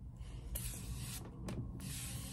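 Makeup setting mist sprayed onto the face in short bursts, several close, airy hisses in quick succession with brief pauses between them.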